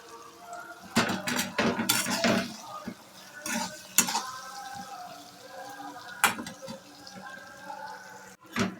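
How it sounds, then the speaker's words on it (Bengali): A spatula stirs and scrapes masala with peas and prawns in a pan for a Bengali prawn chorchori, giving intermittent metallic clatters and scrapes over a soft background hiss. "এবার আমি মশলাটা একটু কষে নেব।"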